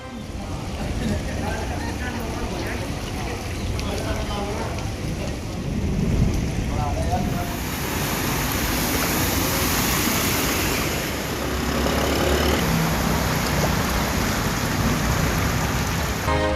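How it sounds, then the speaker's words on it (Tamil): Heavy monsoon rain and rushing floodwater in Punjab, a steady dense wash of water noise across the whole stretch, with surges of louder rushing and possible distant rumble, continuous and close. "பஞ்சாப் மக்களை வீடுகளுக்குள் முடக்கிய மழை வெள்ளம்"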